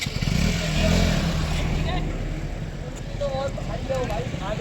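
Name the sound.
motorcycle engine revving with a failed clutch plate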